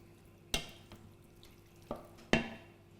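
Vegetables stirred in a pan for cottage pie, giving three distinct scraping clatters of a spoon against the pan over a faint simmering background, with no voices.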